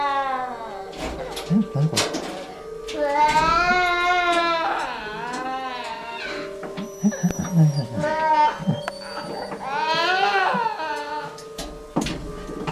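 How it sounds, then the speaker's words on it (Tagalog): A baby cries in wavering, rising wails that come in several long bursts with short breaks, loud and near, with some speech mixed in. "Iyak ng baby."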